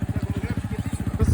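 A rally raid motorcycle engine at the Hellas Rally 2023 throbs close and loud in a fast, steady pulsing rhythm, like a low idle, and swells slightly at the end.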